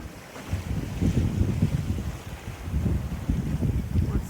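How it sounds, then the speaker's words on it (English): Wind rushing steadily across a Catalina 36 sailboat running dead downwind under a large genoa, with low buffeting gusts and water motion rising and falling, no talking. "Wind dead astern."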